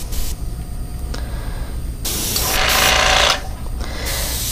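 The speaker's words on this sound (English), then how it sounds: "Now I always turn the airbrush pressure back up when I'm cleaning the chamber." Airbrush hissing air and paint, its steady spray surging louder mid-way then easing back, while a cicada fishing lure is painted and the chamber cleaned at raised pressure.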